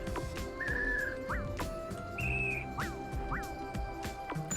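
Bird voice from a video game's monster creator: short whistled chirps and a few quick rising tweets in a loose pattern, near and clear over a constant game background, with no one talking.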